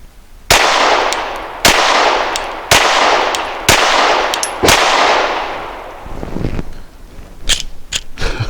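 A stock Glock pistol fitted with a compensator fires five loud shots at a steady rhythm, each blast ringing out with a long echo, followed by fainter metallic handling noises and a few sharp clicks.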